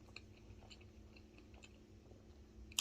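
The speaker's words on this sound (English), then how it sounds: "You get the crunch from the walnut." Someone chewing battered Chinese food with crunchy walnut, soft close mouth crunches and bites at a quiet level, ending in a sharper click.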